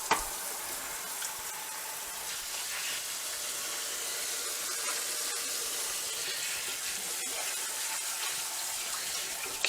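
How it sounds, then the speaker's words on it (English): Cold tap water runs steadily over pasta zero in a strainer, a continuous hissing splash with no talking, holding at an even level throughout. "You're going to dump in the strainer, and you're going to rinse it in cold water first."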